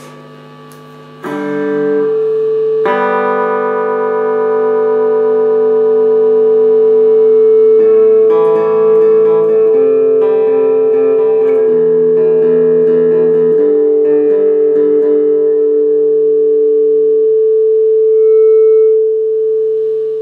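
An M3 Emthree Gunner 50 synthesizer plays sustained tonal notes with the reverb turned fully up, changing pitch every few seconds while long washy tails ring and overlap, loud and alone.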